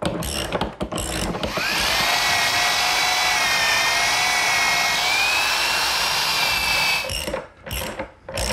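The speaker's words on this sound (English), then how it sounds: "Using my belt sander to remove a majority of the dowel that's sticking up above the side" A belt sander grinds down a protruding wooden dowel on a rolling shop cabinet, starting after a few knocks and running as a loud, steady, high whine for several seconds before spinning down.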